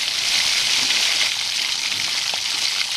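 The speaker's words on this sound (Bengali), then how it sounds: "কালো জিরে আর রসুনটা একটু ভাজা ভাজা করে তার মধ্যে একটা আলু আমি কেটে রেখেছিলাম" Black cumin, chopped garlic and a cut potato frying in hot oil, a continuous dense sizzle at close range, steady and unbroken with no talk.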